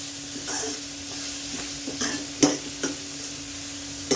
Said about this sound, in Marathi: फास्ट गॅसवरती हे आपण अगदी 1 मिनिटासाठी परतूया।